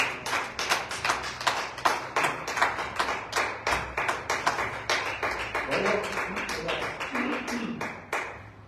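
A church congregation claps for God at a Sunday evening service, a steady run of close, sharp handclaps that trails off near the end as a voice begins speaking.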